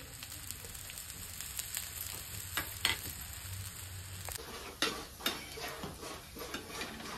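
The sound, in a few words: vada frying in oil on both sides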